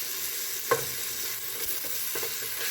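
Meat from frozen browns in a pan with a steady close sizzle, broken by the knock and scrape of a spoon against the pan and a few soft stirring sounds, with no talk.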